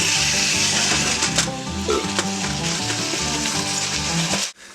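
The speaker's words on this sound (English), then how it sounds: "The butter melting and all the onions and all that stuff" Butter and onions sizzle steadily in a hot pan, a continuous frying hiss over a low droning hum, close and fairly loud, ending with an abrupt drop near the end.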